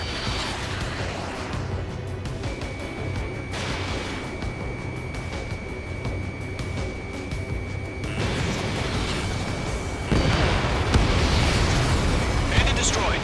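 An enemy aircraft exploding in the video game Ace Combat 7, heard as a broad rumbling roar under continuous jet and combat noise that swells louder near the end, with radio chatter.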